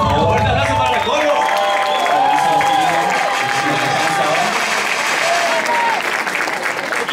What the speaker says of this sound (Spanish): Así que un fuerte aplauso, por favor.